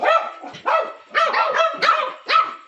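Mother dog barking close by, five loud, sharp barks in quick succession, spaced roughly half a second apart.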